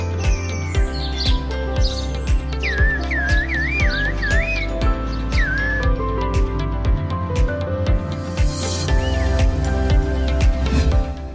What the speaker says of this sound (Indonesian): mungkin kita bisa beruntung mendengarkan langsung siulan-siulan ini di antara pepohonan